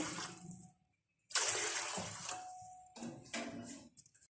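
Water pouring and splashing into a large pot in a few separate bursts with short pauses between, close and fairly quiet.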